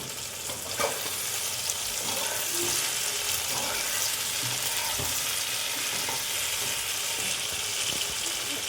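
Turmeric powder sizzles steadily in a hot pan while a bottle gourd and paneer dish is being cooked, a constant broadband frying hiss with a few soft stirring clicks and no voices.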